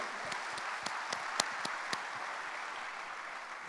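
An audience applauds indoors, a soft steady wash of many hands clapping with a few sharper individual claps standing out, fairly distant and unbroken by talk.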